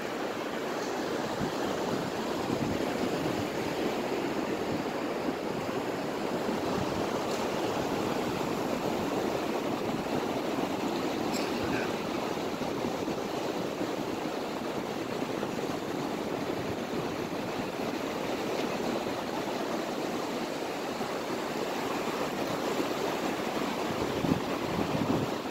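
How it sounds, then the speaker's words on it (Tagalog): Ocean waves wash along a seashore in a constant, broad rushing roar that holds steady and close, with no voices. "Grabe yung alon."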